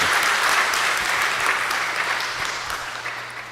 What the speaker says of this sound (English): Can you give a loud applause?